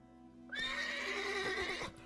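Roach, Geralt's horse in The Witcher 3 video game, lets out a loud, close whinny lasting over a second, a rising then wavering neigh with faint hoof clops beneath it.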